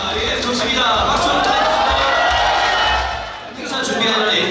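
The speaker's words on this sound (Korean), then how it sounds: "박수" A crowd at a year-end corporate party bursts into loud applause mixed with cheers and whoops, swelling for about three seconds, dipping briefly, then rising again.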